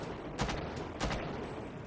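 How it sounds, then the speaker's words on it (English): Light machine gun fire from the tactical shooter Rainbow Six Siege comes as two short, muffled bursts over a low background, fairly faint and distant. "Whole mag, whole LMG mag."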